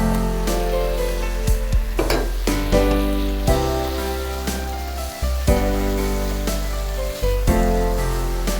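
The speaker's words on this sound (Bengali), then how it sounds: "খুব ভালোভাবে মিশিয়ে নিতে হবে যেন মশলাগুলো সব মিশে যায়, সবগুলো চিকেনের সঙ্গে" Chicken with spices sizzles in a pan while a utensil stirs and scrapes it in repeated clanks, close and steady over a low, constant hum.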